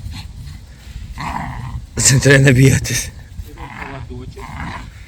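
A Jagdterrier growls in a short, rough burst while tugging on a rope toy, with a louder snarl in the middle. A person speaks around it.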